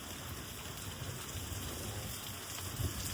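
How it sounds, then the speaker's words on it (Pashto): Steady rain falls in a village, a dense, even hiss of drops on surfaces with a low rumble underneath, continuous and fairly close with no talking. "دا ټقار یې څه دی، دا باران دی"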